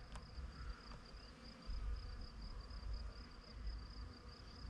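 A faint, thin buzz of a bee hovering near canola flowers, steady over a quiet outdoor background with soft rustling.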